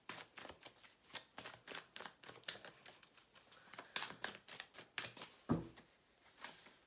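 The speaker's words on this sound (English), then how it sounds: "let's shuffle the cards and see which one we will talk about today" Rider-Waite tarot cards being shuffled by hand, a quiet close run of crisp riffling snaps and flutters repeating in a steady rhythm, with no voice over them.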